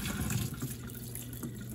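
Vinegar is poured out of the tank of a Levoit LV600S humidifier, a soft continuous splash and trickle of liquid running into a sink, close and fairly quiet.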